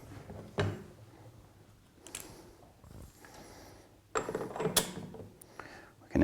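Metal tool clicks and ratchets while the nut is tightened on a Flotronic one-nut pump during a service. The sound comes as sparse, close-up mechanical clicks and knocks, with a louder cluster of clicks near the end.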